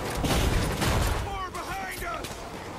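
Gunfire from the video game Far Cry 5 crackles in a dense volley of shots and booms through the first half, then thins into scattered reports over a steady background.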